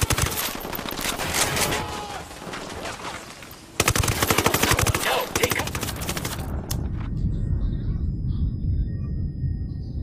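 Automatic weapons fire rapid bursts in Ghost Recon Wildlands, loud and dense, pausing briefly before a second volley and then giving way to a quieter rumbling background.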